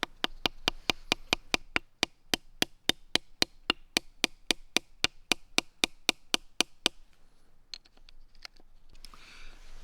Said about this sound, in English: I hammer those into the wood or a flat log just to hold the stone steady